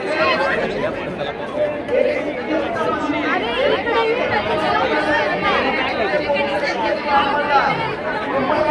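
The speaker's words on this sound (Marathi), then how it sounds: "किती गर्दी भैया आज इथं." Dense crowd chatter from many voices in a packed public place near a bridge, steady and close all around, with no single voice standing out.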